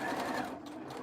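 A sewing machine runs steadily, stitching fabric for a homemade ear saver, its motor buzz close and continuous through the brief moment with no talk.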